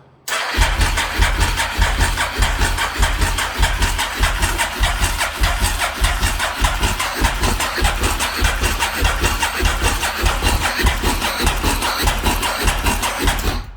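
A motorcycle engine from an SP1 under rebuild runs loudly and close for the whole stretch, a steady, fast pulsing drone with no pauses.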